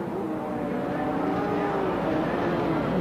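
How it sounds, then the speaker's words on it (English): CART Indy cars from the 1992 Phoenix race rolling off at the start in rows of two behind PPG pace cars, a steady engine drone with no distinct passes. "The cars in their rows of 2 behind the PPG pace cars already beginning to roll away"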